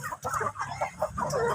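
Hungry backyard chickens cluck close by in short, repeated bursts, several birds overlapping as they wait for feed.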